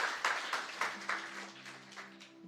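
A church youth service congregation claps in a steady, moderately faint rhythm, with a few lingering sustained tones beneath the applause.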